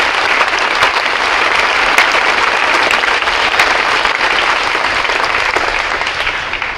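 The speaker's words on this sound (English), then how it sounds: "Please give them a round of applause." An audience at a high school spring pops concert applauds All-State choir members, a dense, steady wash of clapping that holds loud throughout and tapers slightly at the end.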